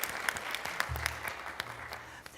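Light, scattered clapping from a small group at a school board meeting, quick irregular claps fairly close, lasting a couple of seconds.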